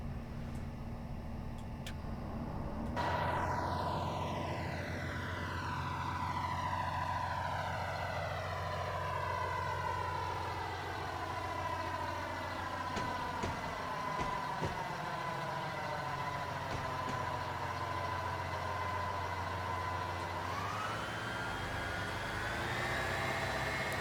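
HST diesel train in Train Simulator Classic on the Great Western Main Line, idling low before engines spool up with a rising whine and a droning roar that builds steadily, then surges again near the end.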